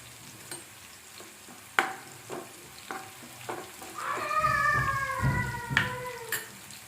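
Onions and curry leaves fry in a pan for okra fry, a steady sizzle with scattered clinks of a spoon, swelling louder midway as a high, wavering squeal rises over it.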